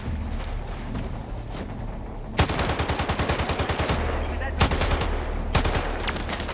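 Rapid automatic gunfire in a first-person shooter video game, with bursts of fast, evenly spaced shots and a few louder single cracks, close and loud.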